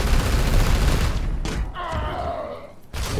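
Support fire in Warhammer 40k: Chaos Gate - Daemonhunters lands as a loud burst of rapid gunfire, then cuts to a brief eerie tonal drone before another blast.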